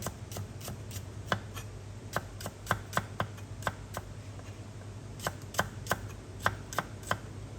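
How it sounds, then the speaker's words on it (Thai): A knife taps steadily on a cutting board, slicing shallots in quick bursts of crisp, evenly spaced chops with short pauses between runs. "หอมแดงซอย"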